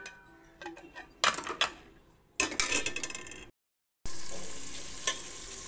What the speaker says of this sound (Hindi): मैंने आयल डालकर आयल को गर्म कर दिया। इसमें मैंने प्याज डाल दिया।